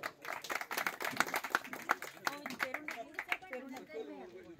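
An audience at a family gathering bursts into brisk clapping, a dense patter that thins out over a few seconds while a voice talks underneath.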